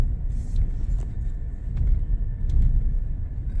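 A Chevy Silverado pickup with the 2.7 turbo engine tows a trailer at light throttle, giving a steady, close, low engine rumble with a faint rattle on top and no speech.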